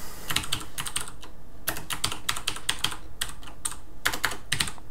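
Rapid typing on a computer keyboard, a close, crisp clatter of key presses in uneven bursts with brief pauses between words.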